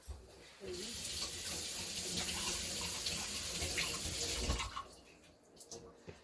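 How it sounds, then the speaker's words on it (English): Tap water runs steadily into a sink as hands are washed in a home kitchen, a close broadband splashing that starts abruptly and eases off toward the end. "And then I'm just gonna wash my hand."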